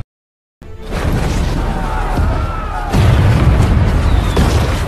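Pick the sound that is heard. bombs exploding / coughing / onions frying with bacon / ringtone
bombs exploding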